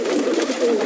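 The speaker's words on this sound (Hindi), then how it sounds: "अभी मैंने अपने बड़े वाले कबूतर खोले हैं, बड़े जाल के कबूतर खोले हैं" Large net-kept pigeons coo close by, a soft, steady low warble that lasts the whole moment, with no talk over it.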